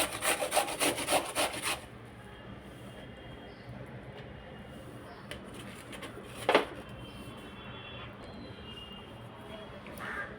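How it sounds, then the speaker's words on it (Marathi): Amla and beetroot being grated on a kitchen grater: a quick run of rough scraping strokes at the start, then quieter intermittent rubbing with one sharp scrape midway, close and moderately loud, no talk. "अशा प्रकारे आपल्याला किसणीवरती आवळे किसून घ्यायचे।"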